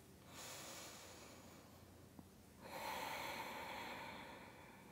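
Slow, deep breathing during a morning yoga flow, a long soft inhale followed by a fuller, louder breath, steady and close with no talking.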